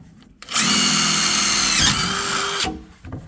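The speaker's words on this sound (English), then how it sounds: "I was drilling for like 1 second." A power drill with a new bit whines loudly for about two seconds while drilling into a Chevy Silverado, its pitch dipping briefly midway, then winds down and stops.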